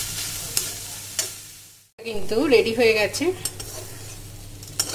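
Soybean chunks fry in oil with spices and red chilli powder while being stirred: a steady sizzle with scraping stirs, a brief pause, then someone talks over the continuing frying.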